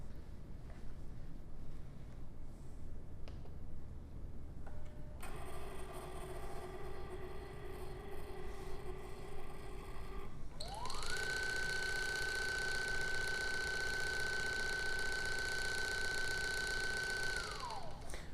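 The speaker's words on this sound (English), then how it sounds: "Then it's going to go back and start filling the bags one at a time." A Sexton Biotechnologies automated filling system fills bags one at a time at a set pump speed: a low steady mechanical hum, then layered motor whines start up, one rising tone that holds and then winds back down.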